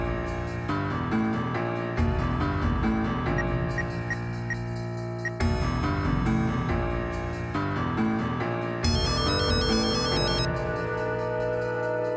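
A mobile phone ringtone plays as a loud, continuous melodic tune that repeats its phrase in sections over several seconds, with no talking.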